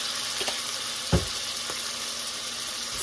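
Butter and onion frying in a pan, a steady bright sizzle that runs continuously, with a few soft clicks and one low thump from the cookware partway through.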